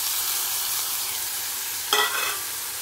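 Tomatoes hit a pan of sautéed onions and butter with spices, a continuous soft sizzle broken near the end by a brief louder burst of stirring and spatula scraping.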